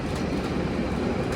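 A train pulled by two locomotives in double traction rumbles past on an Indonesian railway line, a steady loud low roar with no talking.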